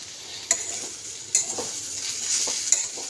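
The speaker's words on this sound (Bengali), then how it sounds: "তো এবার মশলাটা কষা হয়ে গেছে।" Spice masala for soup is fried without oil and stirred in a pan. A spoon scrapes and knocks against the pan every second or so over a soft, steady sizzle, with no talk.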